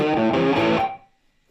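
An Epiphone SG electric guitar played through its bridge pickup with a distorted tone rings out in a short, loud phrase of strummed chords that cut off and fade to silence.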